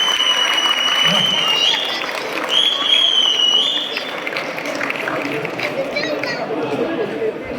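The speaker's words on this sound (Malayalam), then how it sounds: "കൈകൊട്ടിക്കളി, കയ്യടിയാണ് വേണ്ടത്" Steady applause from an audience after a children's dance performance, dense clapping running throughout with crowd chatter mixed in and a high electronic whistle-like tone drifting in the background.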